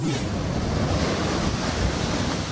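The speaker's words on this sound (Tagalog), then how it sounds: "Napatakbo na ang ilang residente nang biglang umapaw ang alon sa kalsada." Large storm-surge waves crash and wash over a seaside road in a continuous loud roar, mixed with heavy wind buffeting the microphone.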